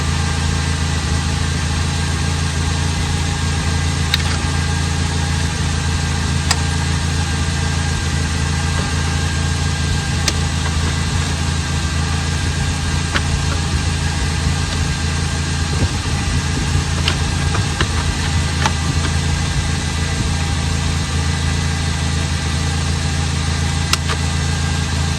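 Nissan Sentra engine idling with the car running during a CVT transmission fluid check, a steady, loud, even hum and vibration that holds constant throughout with no speech.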